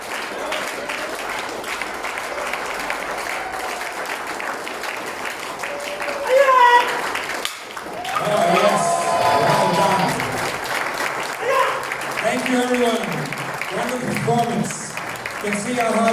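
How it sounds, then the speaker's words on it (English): A crowd at a taekwondo belt presentation ceremony in Sunnybank claps and cheers loudly, a long wash of applause that swells midway and carries on as someone speaks over it. "Another cheer everyone, well done."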